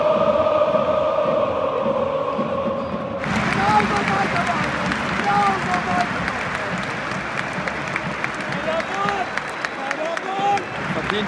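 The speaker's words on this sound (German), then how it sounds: "Verdienter Applaus, Alter." Stadium crowd at a Schalke 04 versus St. Pauli football match breaks into sustained loud applause and cheering, a dense roar of clapping that swells suddenly and carries on with voices shouting through it.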